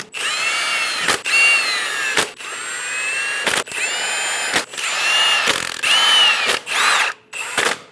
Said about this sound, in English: Snug down all the lug nuts.